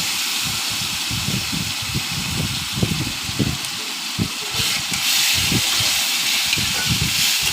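A ground paste of tomato, ginger, chilli and garlic sizzles in a hot pan, a loud steady hiss with uneven bubbling and spattering bursts throughout.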